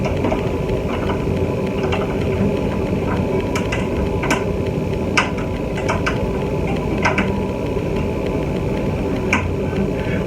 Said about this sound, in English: So now here's the angle of the truss rod wrench.